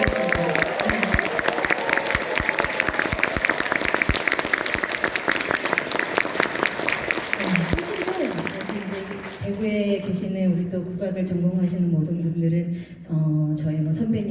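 Audience applause for the Daegu city gugak orchestra and its conductor at a gugak concert, dense clapping with some cheering that fades after several seconds into softer sounds and a voice.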